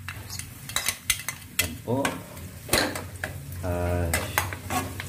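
Garlic sizzles in a pan for Filipino pancit bihon while a utensil stirs it, with clattering scrapes and knocks against the metal over a soft steady sizzle, close up; a voice speaks briefly.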